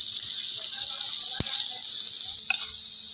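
Vegetables for veg fried rice sizzle in a pan over a low gas flame, a steady bright hiss with small pops and crackles, close and continuous.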